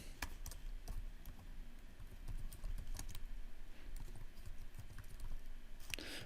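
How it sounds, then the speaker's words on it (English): Keys clatter in quick, uneven bursts as someone types a title on a computer keyboard while editing in Camtasia, soft and close with no talk. "you can just type in Inspector Gadget."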